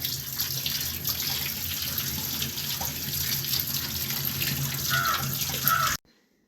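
Running tap water pours steadily into a sink while bitter gourd is rinsed under it, a continuous close splashing that cuts off abruptly near the end.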